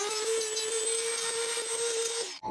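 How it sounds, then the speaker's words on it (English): Sandpaper drum attachment on a rotary tool deburring a freshly cut metal tripod extension, a steady high-pitched whine with constant grinding texture lasting over two seconds before stopping abruptly. "I'm just going to use this sandpaper drum attachment to kind of"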